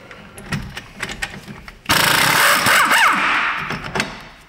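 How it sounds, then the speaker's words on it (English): A 17 mm swivel socket wrench works loose the front brake caliper bracket bolts on a Toyota Sienna: a few light metallic taps, then a loud sustained rattling, grinding burst that lasts a couple of seconds and fades out. "I'm gonna be using the Toothcracker 9000, the 17 mil swivel socket from Astro Tools."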